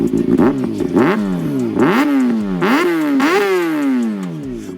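A Kawasaki ZX-6R motorcycle engine revs repeatedly, pitch climbing and dropping in several sharp bursts, loud and close, with no voices.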